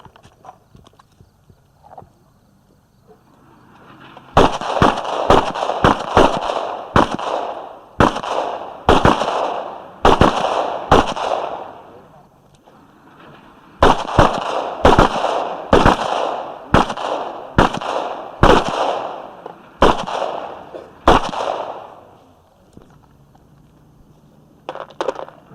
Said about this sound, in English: And that's shooting again